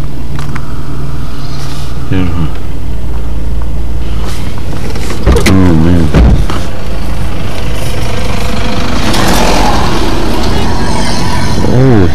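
Interior of a moving car or truck on a trip through East Africa, with a steady loud engine and road rumble throughout while several people talk close by.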